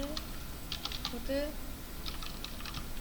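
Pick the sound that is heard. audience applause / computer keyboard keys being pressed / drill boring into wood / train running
computer keyboard keys being pressed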